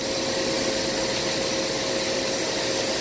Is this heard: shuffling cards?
no